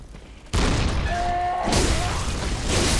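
A cannon fires in the video game Bloodborne, one abrupt loud boom followed by a sustained roaring blast, then a second burst near the end, with no talking.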